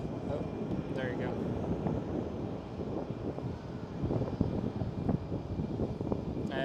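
KLM Boeing 737 airliner taking off from runway 18 left at Amsterdam Schiphol, a steady distant jet engine roar with wind buffeting, heard from a spotting spot outdoors.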